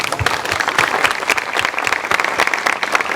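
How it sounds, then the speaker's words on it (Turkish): A room applauds the football team at the Marmara Adalar Spor solidarity night, with many hands clapping in a dense, loud, uneven burst. "tüm ekibe teşekkür ediyoruz ve onları hep birlikte alkışlıyoruz"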